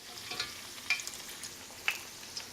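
A Korean mandu dumpling frying in hot oil, a steady soft sizzle with small crackling pops now and then, close up and with no voices.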